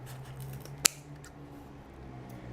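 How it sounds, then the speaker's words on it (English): Scissors make one crisp, close snip through a tiny piece of material during a mirror easel DIY project, then fall quiet under a faint steady hum. "I'm gonna cut this with my scissors"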